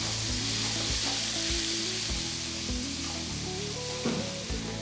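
Chopped onions sauté in a pan with a steady, moderate sizzle. A low humming tone runs underneath and is interrupted by occasional soft knocks.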